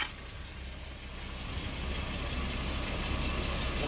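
Isuzu 6WF1 truck diesel engine running steadily up close, a constant loud low rumble and hum with no break; the engine has an overheating problem.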